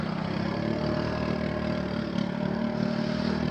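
A motorcycle engine idles with a steady, rough rumble and a faint metallic rattle from an exhaust pipe missing its screws, close by and continuous.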